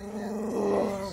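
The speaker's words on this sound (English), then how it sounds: "Stop growling at me." A female dog growls low and steadily for about a second, a close, continuous rumble that swells slightly in the middle, with no talking.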